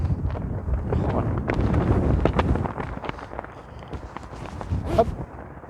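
Gusty wind buffets the microphone on a golf course at Château de la Vallade, a rough, fluctuating rumble with occasional brief knocks and rustles.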